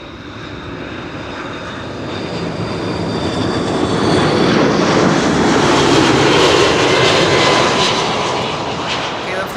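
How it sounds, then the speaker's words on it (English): A KLM passenger airliner arriving from Toronto at Amsterdam Schiphol Airport roars past, its engine noise building to a loud, broad rush and then easing slightly. "KLM 696, arriving from Toronto."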